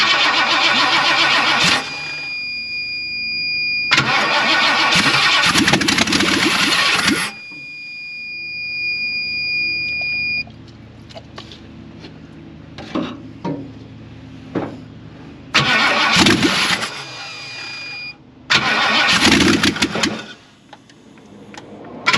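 A 1958 car engine cranks in several loud bursts, with whirring starter noise, quiet pauses between attempts and faint clicks, until it finally fires off near the end.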